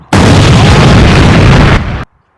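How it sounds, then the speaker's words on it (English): A Coke bottle bursts with one loud, sustained blast that roars for nearly two seconds and then cuts off sharply, close and very loud. "That thing just blew up."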